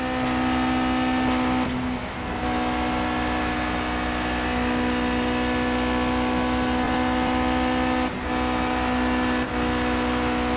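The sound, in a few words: race car engine revving in the video game Project Cars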